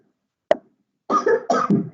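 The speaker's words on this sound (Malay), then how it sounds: "Tengok dah batuk." A person coughs: one short sharp cough, a brief pause, then two quick throaty coughs close together, heard near and clear against silence.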